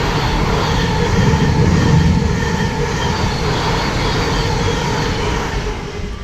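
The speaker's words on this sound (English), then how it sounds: "The railway that we're just going under is the main East Coast main line" A train on the East Coast main line passes overhead as a steady, loud, close rumble and roar that holds throughout, with no talking.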